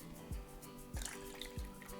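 Liquid yeast mixture poured into a bowl of water while making ciabatta dough; three soft, low splashing drips land at steady intervals against a quiet room.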